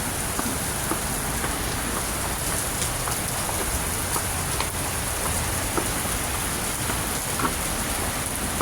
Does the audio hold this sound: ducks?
no